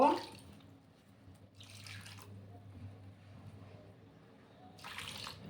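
Water poured over grated potatoes in a bowl, a brief splash at the start followed by soft trickles and two short bursts of pouring, quiet and close with low room hum.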